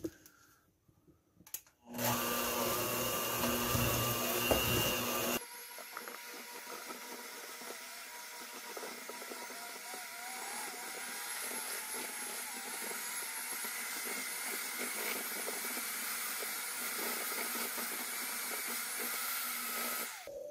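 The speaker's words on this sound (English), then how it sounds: "now I'm going to go over to my little mixer and mush it all up together" A small kitchen mixer blends a spinach roll filling, starting with a loud, harsh whirring burst for a few seconds and then settling into a quieter, steady motor hiss and hum that runs to the end.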